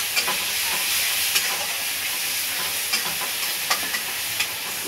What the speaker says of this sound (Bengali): এবার আমি মশলাটাকে ভালো করে পাকাবো